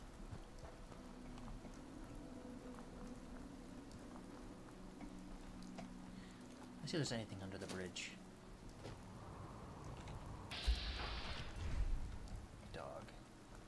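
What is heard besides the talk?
rain falling in video game Fallout 4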